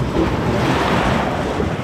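Ocean waves surge and wash through a sea cave in a steady, loud, continuous roar with no talking over it.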